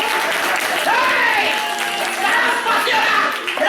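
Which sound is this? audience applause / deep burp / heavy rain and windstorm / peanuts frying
audience applause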